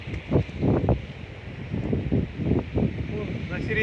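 Strong headwind on a river bank in winter buffets the microphone in low, rumbling gusts, with breathy rustling throughout and a few surging bursts.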